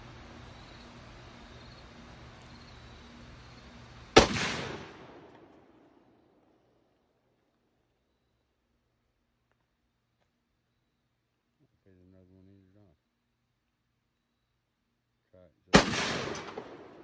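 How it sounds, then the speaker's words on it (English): Two loud, sharp rifle shots from a Palmetto State Armory AR10 chambered in .308, spaced about eleven seconds apart outdoors, each with a short decaying echo, first over a steady background hum and the second after near silence. "first shot with the new Palmetto State Armory"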